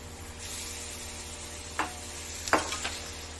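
A kilo of chicken sizzles in hot oil over spiced masala in a pan, a steady close frying hiss broken by two or three brief sharp clatters, with no talking.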